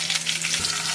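Gongura leaves dropped into hot oil in a pan give off a steady, loud sizzle and fry with a continuous crackling hiss throughout.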